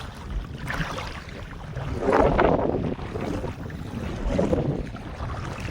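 Wind buffets a microphone on a fishing boat on open water, with a steady low rumble and gusts swelling and easing over several seconds, no voices.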